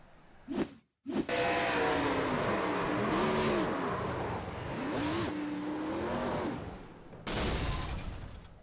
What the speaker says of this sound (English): that bang there, that was the engine giving up